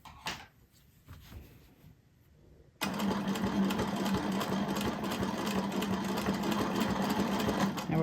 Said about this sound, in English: I'm going to overstitch on these stitches